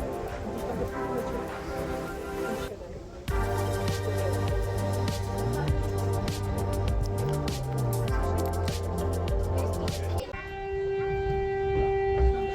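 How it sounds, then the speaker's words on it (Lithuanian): A siren wails near the courtyard of a ruined castle, steady sustained tones that shift in pitch and run loud and continuous across the whole stretch. "Nežinau, ar girdit, bet kaukia sirena."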